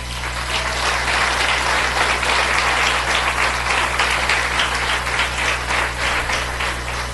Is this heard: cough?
no